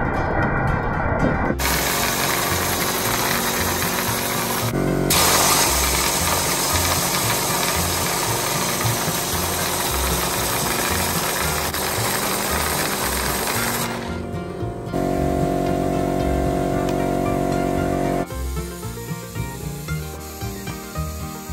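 A homemade bingo machine driven by an air blower under a bench rattles numbered balls with a continuous loud whirring, buzzing drone that shifts in tone a few times.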